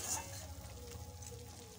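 Masala spice paste fries in a pan for a raw banana curry, giving a low steady sizzle with faint stirring scrapes, close and fairly quiet throughout.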